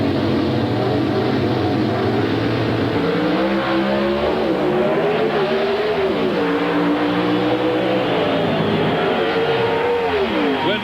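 A drag racing car accelerates down the track at a 1996 NHRA event, a loud, steady engine roar that rises in pitch and wavers, continuous and close for about eleven seconds with no talk.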